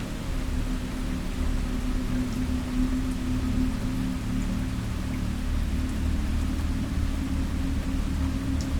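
Steady rain falls at night, a dense continuous hiss with a low rumbling undertone, heard alone and unchanging throughout.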